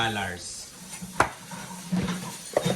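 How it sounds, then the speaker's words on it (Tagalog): Dishes, pots and cutlery clatter at a kitchen sink during washing, with intermittent knocks and scrapes and a sharp clank near the middle, fairly close under a steady low background hum. "Tensya na kayo sa maingay na naghuhugas ng pinggan"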